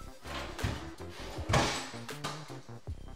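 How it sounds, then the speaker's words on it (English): A soft-close drawer in a bathroom double vanity of a new-construction Florida home slides shut with a muffled rolling glide and a gentle thud, close by, with no talking. "We have the soft shut drawers."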